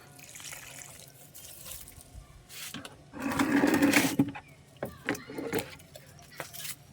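Liquid fertilizer is poured from a container onto potted rose plants in a home garden, a splashing, trickling pour that swells loudest midway, with intermittent drips and a voice talking around it.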